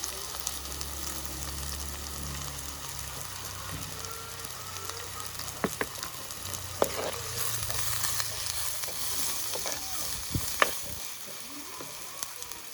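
Sliced onions and slit green chillies frying in a pan for a crab curry sizzle softly and steadily, with occasional clinks and scrapes of a spoon stirring, low and fairly faint throughout.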